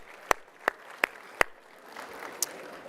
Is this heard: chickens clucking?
no